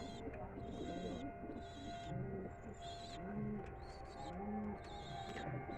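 Flying pigeons kept for sale give soft, low coos in a few rolling phrases, fairly faint against a steady background hum, with a recurring higher tone also present.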